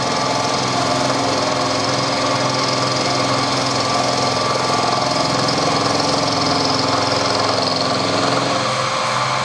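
A carbide milling cutter cuts aluminium bronze at 1500 RPM in conventional milling, giving a loud, steady machine drone with a constant mechanical whine throughout, with no talking.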